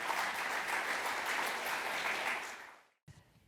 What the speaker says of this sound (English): So yes, you can clap now.